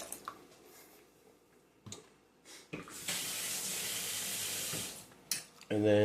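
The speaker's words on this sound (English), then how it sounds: "Pour some juice. I do about half a jar of juice in there." Pepperoncini juice pours steadily into a pot for a couple of seconds, preceded by a few clinks and handling sounds, close and fairly loud.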